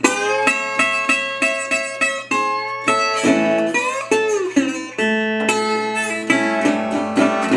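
Solo blues guitar plays the introduction to a song, a sequence of plucked, ringing notes and chords with sliding pitch bends, close and alone without talk.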